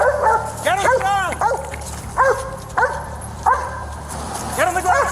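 A police dog barks in repeated sharp, yelping bursts during an arrest, with loud, close shouting from an officer running through it.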